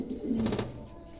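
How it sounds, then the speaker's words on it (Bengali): A low, throaty coo from a pair of Lahori pigeons rolls out steadily at close range, swelling briefly in the middle before fading, with no voices. "খুবই চমৎকার এক জোড়া কবুতর"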